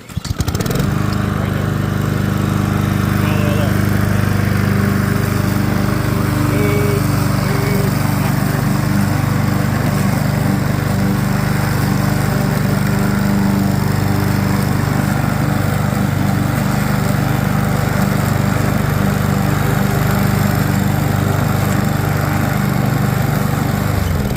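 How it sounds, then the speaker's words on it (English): A lawnmower runs continuously across a rough, uneven, unfinished yard of leftover dirt and rocks, a loud steady engine drone close by with constant low hum and rattle, no talking. "watch how uneven it is and how unfinished it is when I run the lawnmower"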